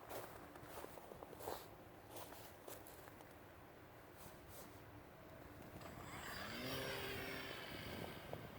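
Faint footsteps and rustling give way to a small electric RC plane motor whining up to full power, a steady, higher-pitched drone, heard from a distance.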